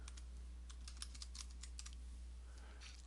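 Typing a folder name on a computer keyboard, a quick run of light clicking keystrokes over a steady low electrical hum, close and fairly quiet.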